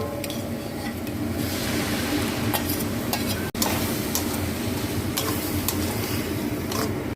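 Kheer is poured into ghee with fried cashews and raisins in a pan, giving a steady sizzle with stirring scrapes and occasional utensil clinks, close by and with no talking.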